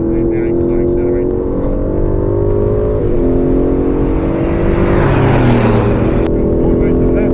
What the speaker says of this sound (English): now we're bringing it tight, and now you can start accelerating.